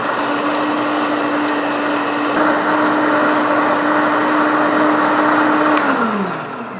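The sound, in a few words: blender blending pumpkin spice latte ingredients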